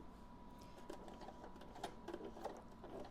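A sewing machine stitching a zigzag on fabric while sewing a pillowcase, running at slow speed with a steady rapid whir and faint needle clicks close by, quiet and without talking.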